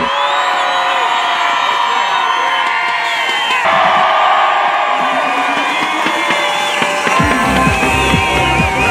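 A dense crowd at a ski resort welcome in Isola 2000 cheers, whoops and shouts loudly and close by, a steady wall of excited voices with yells rising above it.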